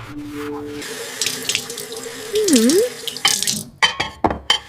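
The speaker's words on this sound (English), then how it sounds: "After dinner, I wash the dishes." Tap water runs and splashes in a kitchen sink during dishwashing after dinner, a steady nearby flow broken by clinks and intermittent splashes, with a brief whistling tone midway.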